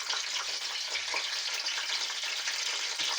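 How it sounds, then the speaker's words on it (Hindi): Oil heating in a kadhai, a steady close hiss and crackle of sizzling that runs unbroken and fairly loud with no voices. "जो ऑयल हमारा गर्म होने के लिए मैंने डाल दिया है"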